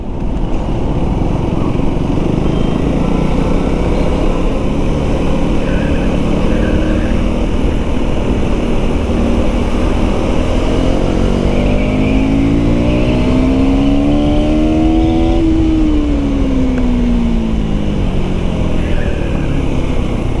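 A KTM Duke 390 Gen 3 motorcycle accelerates along the old Pune–Mumbai highway, its engine note climbing steadily in pitch through the revs under constant loud wind rush, then dropping briefly near the end.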